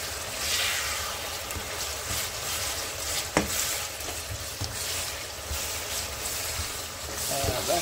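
A spoon stirs tomatoes, tomato paste and chives simmering in a pot, with a soft continuous bubbling sizzle, scraping strokes and one sharp clink against the pot midway.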